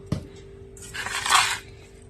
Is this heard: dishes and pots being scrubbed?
yes